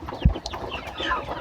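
Hens on a poultry farm give a short, close cluck near the start, followed by softer, scattered clucking and low farmyard murmur.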